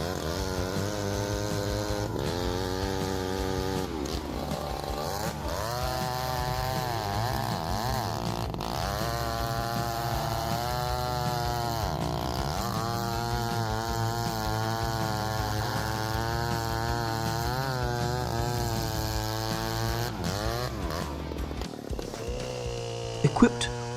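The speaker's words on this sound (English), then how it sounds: "This chainsaw boasts the perfect" A big chainsaw with a 72-inch bar and 404 full chisel chain cuts into an oak tree, its engine roaring steadily and loud throughout, pitch rising and falling as the cut bears down, with a voice talking over it.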